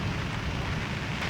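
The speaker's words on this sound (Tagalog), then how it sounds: "Ang lakas na ng ulan." Heavy rain pours steadily at a group motorcycle campsite in the morning, a dense, even wash of noise with no talk over it.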